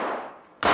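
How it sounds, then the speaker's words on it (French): Gunshots: a decaying crack fades over most of the moment, then a loud, sharp broadband blast erupts near the end and holds. "des coups de feu, il me semble."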